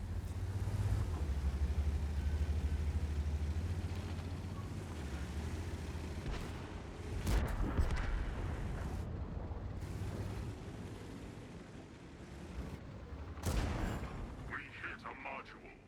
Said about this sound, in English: The shell hits the target.